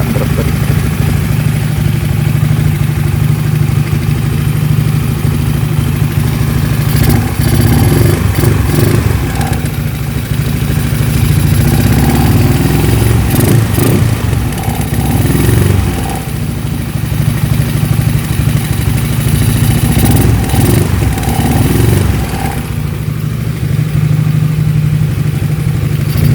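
A Honda Spacy scooter with a bored-up engine and a PWK carburetor idles steadily and close by for the whole stretch, a smooth even putter with light mechanical clatter and a few small throttle blips, no talk.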